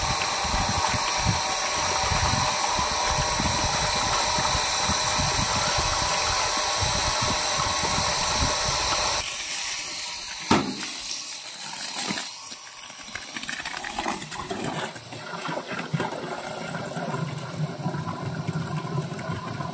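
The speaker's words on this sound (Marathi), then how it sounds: "पाणी तर यायला लागले. टिपाड भरलं आपलं." Water pumped into a barrel, a steady loud rush over a motor hum that thins and shifts about halfway through, with a few sharp clanks and no talk.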